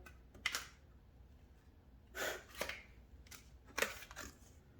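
Soft riffling bursts of cards being shuffled, a few short flurries separated by quiet gaps, close and fairly faint.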